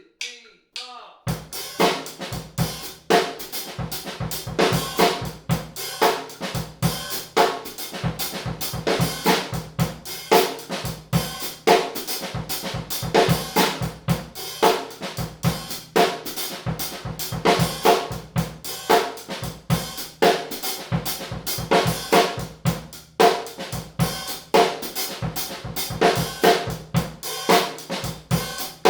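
A drum kit plays a funk groove, a tight, busy pattern of crisp snare, kick and hi-hat hits repeating steadily for nearly half a minute, close and loud with no talking.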